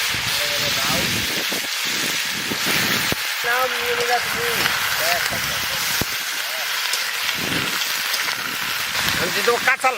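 Bay leaf and dried red chilies crackle and sizzle in hot tempering oil for a Bengali hilsa and gourd-leaf dish, a loud steady frying hiss with popping bursts, continuous up close, with a voice talking over it.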